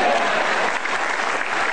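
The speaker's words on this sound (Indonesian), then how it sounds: "Silakan tepuk tangan" A studio audience at a televised stand-up comedy show applauds in a dense, steady burst of clapping from start to end.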